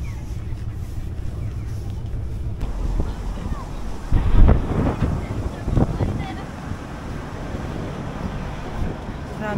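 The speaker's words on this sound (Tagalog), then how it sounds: "Pag umaampas ang hangin, lalo lumalamig." Cold wind gusts across Nara Park, buffeting the microphone with a loud, steady rumble that swells and eases over several seconds.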